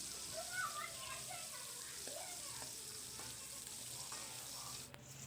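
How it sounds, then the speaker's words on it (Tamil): Onions sautéing in oil in a pan for Tamil-style chicken curry gravy with salt added, a soft steady sizzle with faint stirring scrapes, quiet and continuous under light background noise. "வெங்காயம் வந்து நல்லா வதங்கணும்"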